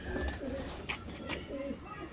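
A pigeon coos softly in low, throaty pulses a few times, faint and fairly close amid background noise.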